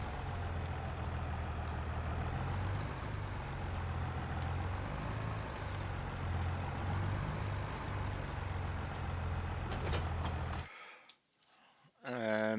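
A tractor's engine drones steadily while pulling a seed drill in a farming video game. The loud, even hum runs for about ten seconds, then cuts out abruptly before fading back in faintly.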